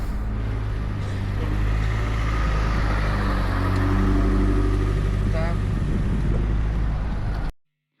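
A car rolling slowly onto the Kaidatskyi bridge in Dnipro on a damp, foggy morning, a steady low engine and road rumble heard from inside the cabin, continuous and fairly loud before cutting off abruptly near the end.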